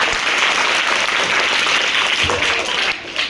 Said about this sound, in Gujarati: હવે જરા તાળી જોરદાર પાડી દો.